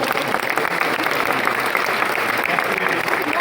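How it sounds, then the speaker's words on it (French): A crowd bursts into thick, continuous applause, loud and close, forming a steady roar of hands with no pauses. "Un tonnerre d'applaudissements pour Paul Couron, s'il vous plaît"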